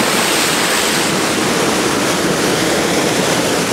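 Lingjiao Waterfall in Taipei, Taiwan pours into its lagoon as a loud, dense, constant rush of falling water, close and unbroken.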